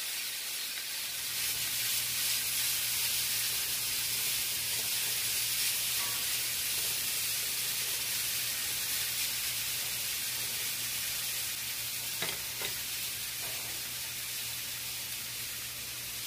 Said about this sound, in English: I'm going to start out by frying my bacon until it just starts to get crispy